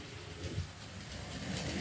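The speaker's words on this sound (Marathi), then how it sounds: "मेट्रो फिरतीये" A low, steady rumble with a faint rattle as a small electric model of the Pune Metro train runs along its track in a decorative display nearby.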